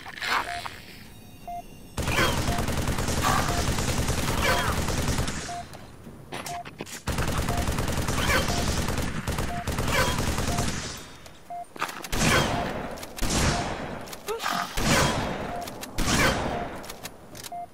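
Halo 3 ODST combat gunfire, long sustained automatic bursts separated by short pauses, then a run of rapid separate shots near the end, loud and close with faint voices mixed in.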